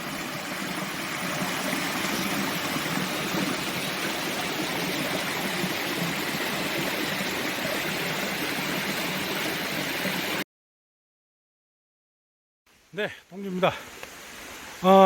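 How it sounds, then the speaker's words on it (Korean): A mountain stream on Unaksan rushes steadily for about ten seconds, a constant broadband burble, then cuts to near silence before a few scattered handling noises and voices. "물소리가 참 좋죠?"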